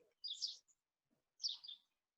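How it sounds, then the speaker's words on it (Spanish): Two short bursts of high, bright chirping from small birds, separated by a pause of about a second, fairly close and clear against an otherwise quiet background. "Además, Víctor, ¿escuchas los pajaritos"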